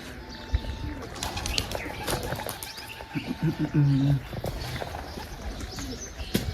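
Pigeons cooing nearby in a household setting, a few low soft coos mid-clip over background rustle and scattered knocks, with people talking faintly in the background.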